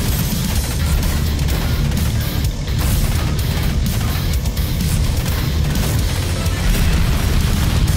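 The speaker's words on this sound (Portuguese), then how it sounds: "os sons, o barulho das explosões e dos tiros" Explosions and gunfire in the retro action game Iron Meat, a loud, continuous wall of booming blasts and rattling shots with heavy low rumble and no pauses.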